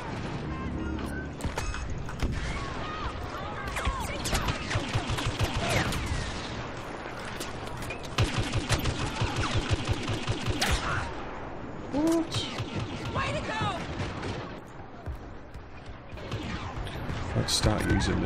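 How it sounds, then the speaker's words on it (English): Cycler rifle shots crack out in Star Wars Battlefront, a busy capture-the-pod multiplayer battle as Imperials secure an escape pod, with dense, steady gunfire and blasts mixed under game voices and talk. "Using this cycle rifle, see if I can get any shots with it."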